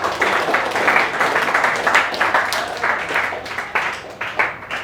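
A classroom full of students keeps up vigorous applause, the clapping steady and loud throughout with slight surges and dips.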